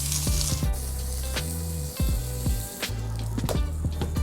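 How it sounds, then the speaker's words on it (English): A steak sears in a hot pan with an intense, close sizzle, and sharp spatters and crackles pop over the continuous frying hiss. "Steak is seared. It's got a nice crust on it."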